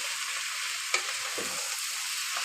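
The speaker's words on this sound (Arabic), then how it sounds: "وهقلبها كده في اللحمه بتاعتي اهوت" Stored okra stirred into meat in a pot, a bright continuous sizzle with a couple of soft scraping stirs near the middle, close and without talk.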